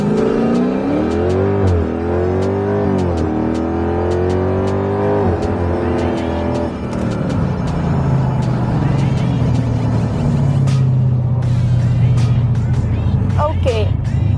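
A Jeep Grand Cherokee SRT-8 Kompressor rated at 660 HP accelerates hard, its engine rising through the gears in loud climbing sweeps, with a voice talking over it.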